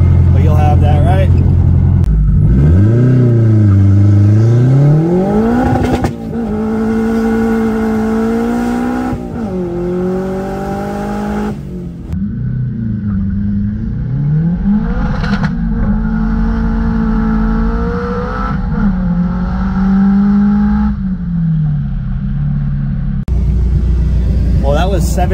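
A turbocharged Acura CL pulls hard in third gear, its engine note climbing and falling in loud, sustained rising sweeps with a deep rumble, close up inside the car, with a voice talking over it.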